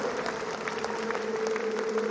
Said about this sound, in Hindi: कैसी तालियां होनी चाहिए इनके लिए?